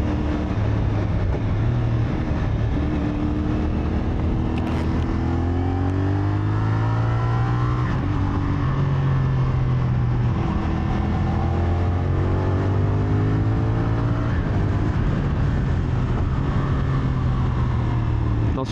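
CFMOTO SR450 motorcycle on a test ride, engine rising and falling through revs and gear shifts with a quickshifter, steady loud drone with wind noise, a rider's voice faintly under it.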